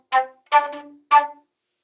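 A flute plays three short, detached notes from low C up to D, clear and close, separated by brief silences.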